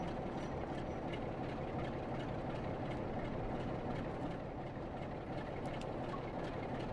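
Steady rumble of a train running in a train simulator game, a continuous low clattering drone held at an even level throughout with no talk.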